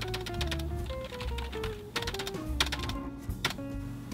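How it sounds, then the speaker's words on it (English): Rapid clicking keystrokes rattle in an uneven stream, close and fairly crisp, with a faint background tone and no speech. "Typing."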